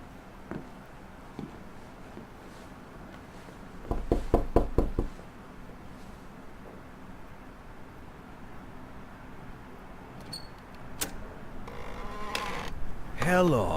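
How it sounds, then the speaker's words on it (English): Knocking at a door in the video game This is the Police 2, a quick burst of five or six sharp raps, then quieter game ambience with faint buzzing. "Oh, someone's knocking at the door."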